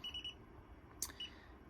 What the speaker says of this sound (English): the keypad, when it goes back to this sleep screen, will start to beep